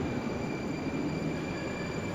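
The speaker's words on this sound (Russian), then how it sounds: "вот поезд подъехал по Серпуховско-Тимирязевской линии" A Moscow metro train on the Serpukhovsko-Timiryazevskaya line pulls into Petrovsko-Razumovskaya station with a steady, loud rumble of wheels and carriages that fills the whole stretch, with no talk over it.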